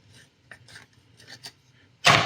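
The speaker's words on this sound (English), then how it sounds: "I was just drilling out the hole a little bit bigger, and I'm just doing it by hand" A hole in a 1/60 NeoGrade Sazabi plastic model kit part is reamed out by hand, giving soft, scattered scraping rasps followed by one louder, close grinding scrape at the end.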